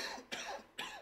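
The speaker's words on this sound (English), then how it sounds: "Ah, sorry, I had to cough." Two short coughs from a man on a live stream commentary mic, quiet and close, with a brief pause between them.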